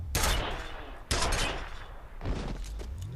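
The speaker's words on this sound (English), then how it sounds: "Nail gun works wonders here, as you can see." Rapid bursts of nail gun fire in the shooter game F.E.A.R., three loud clattering volleys in quick succession with booming impacts, close and dense, with no voices over them.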